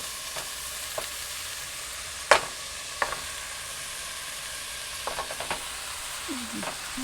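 Beef sautéing in a pan for homemade Italian-style lasagna, a soft steady sizzle with scattered clinks and scrapes of a utensil stirring.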